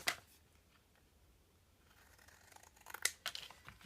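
Scissors snipping through a sheet of paper to cut it in half down a pencil line, a faint close crunch at the start and a louder cluster of snips near the end over quiet room noise.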